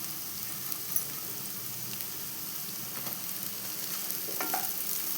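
Cooked, cooled rice stir-fried in a hot pan with garlic chili seasoning, a continuous close sizzle and crackle with scraping stirs, steady throughout with no talk.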